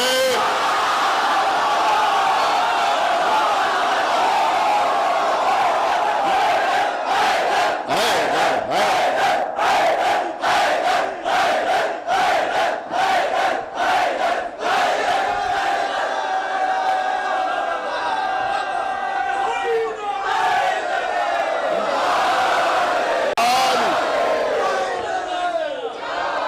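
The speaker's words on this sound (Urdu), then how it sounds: "اب مجمع میں نعرے لگائے حیدر حیدر حیدر" A large crowd at a Muharram majlis gathering chants a religious slogan in loud unison, rhythmic shouted bursts rolling on for over twenty seconds, dense and close, with voices overlapping and swelling before easing toward the end.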